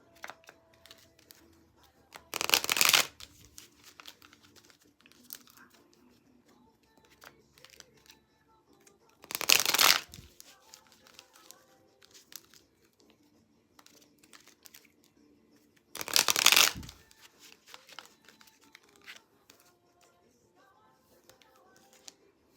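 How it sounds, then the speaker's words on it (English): Three separate bursts of rapid riffling, each about a second long and spaced several seconds apart, with near silence in between. "We are shuffling."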